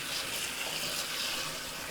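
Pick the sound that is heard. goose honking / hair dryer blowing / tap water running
tap water running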